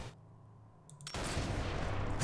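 Quiet stretch, then a sudden burst of Sniper Elite 4 video game gunfire, loud and sustained, with a sharp sniper-rifle headshot crack near the end.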